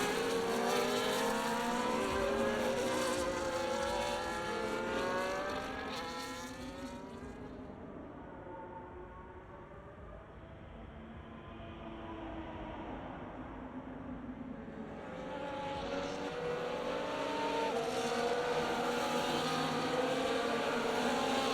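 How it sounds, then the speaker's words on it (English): A Formula One Ferrari in a racing video game rolls down pit road at Las Vegas, engine whine sweeping loud, dipping to a quieter drone for several seconds, then swelling back up, with no talk. "Nico brings his Ferrari down pit road, so he's going to go to a set of softs here"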